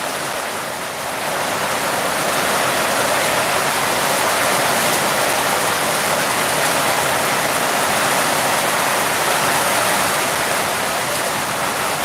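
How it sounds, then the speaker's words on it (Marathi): Heavy rain pours down steadily at Ghatnandra, a dense, continuous broadband roar holding at the same loud level from start to finish with no speech. "घाटनांद्रा येथील जोरदार पावसाचे आगमन"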